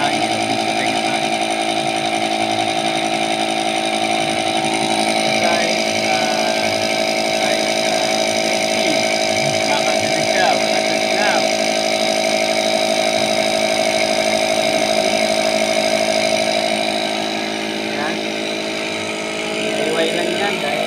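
A loud homemade air compressor built from a tank drones continuously with a buzzing, rattling tone, running steadily for a long stretch before dipping slightly near the end.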